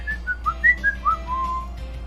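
A person whistles a short, clear melody of about eight quick notes that rise and fall before ending on a held tone, close and alone over a faint low hum.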